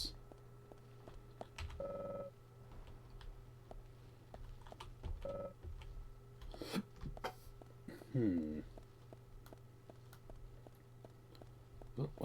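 A telephone in the video game Deadly Premonition gives a few short electronic ring bursts over rainy ambient game sound, with a rising chirp near the end and someone talking at intervals.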